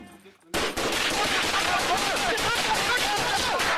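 Rifle fire erupts during an ambush on sheriff's deputies, a rapid, loud burst of repeated shots following a brief quiet moment, with shouting voices mixed into the barrage.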